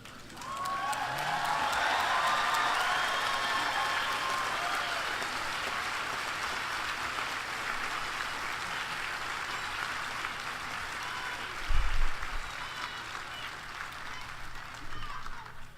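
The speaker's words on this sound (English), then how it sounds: "now you're applauded for standing" Sustained applause and cheering from a large crowd for the graduating class at Reed College's 2018 commencement, swelling early and then holding steady for many seconds before tapering, with a few brief voices mixed in.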